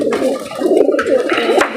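Pigeons kept for a flying contest coo nearby in repeated low, throaty phrases, loud and close with no speech.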